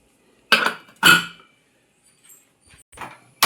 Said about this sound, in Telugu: కుక్కర్ ఇలా మూత పెట్టేసుకొని